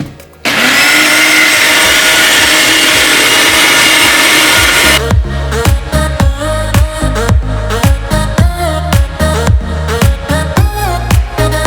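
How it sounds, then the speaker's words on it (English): A Farberware upside-down blender whirs loudly as it blends protein ice cream, a continuous roaring motor that then breaks into rapid rhythmic pulses, close and alone with no voices. "That blended actually pretty good."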